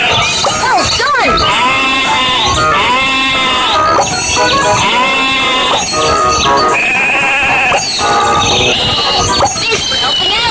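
Sheep bleat loudly and repeatedly, one call after another, in a cheerful children's video game about a magic train, with game music and effects layered underneath.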